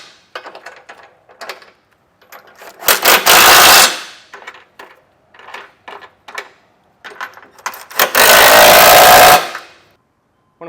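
A 3/4 inch socket drives the bolts of a Curt trailer hitch receiver on a 2023 Subaru Forester: two loud, close, rattling bursts of about a second each, separated by lighter clanks and handling noises.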